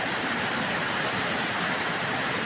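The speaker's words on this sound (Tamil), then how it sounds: "அளவு கடந்த மழை" Heavy rain pours steadily in a rural Tamil Nadu village, a dense, loud, unbroken hiss with no pauses and no voices.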